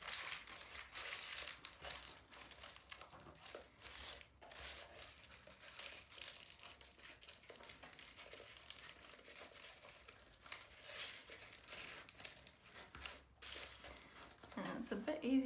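Tinfoil being crumpled and squished together by hand, a continuous close crinkling and crunching for the whole stretch, faint overall, while a person speaks over it.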